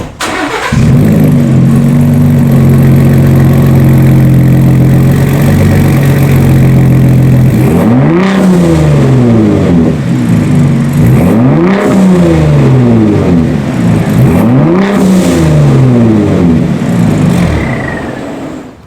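A loud Gen 3 Ford Raptor truck engine with factory exhaust idles steadily, then revs repeatedly in rising and falling surges, with a deep rumbling exhaust tone and no talking.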